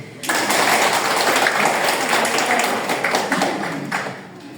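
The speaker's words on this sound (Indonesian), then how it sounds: "Tepuk tangan dulu" Children in an Indonesian primary-school classroom clap together in a steady, dense burst of applause lasting several seconds, close and loud, tapering slightly at the end.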